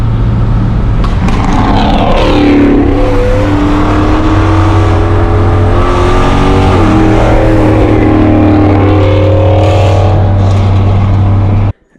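A car fitted with a Magnaflow XMod exhaust with a J-pipe tip runs loud and close for about twelve seconds, its engine note climbing and falling through several revs before cutting off abruptly.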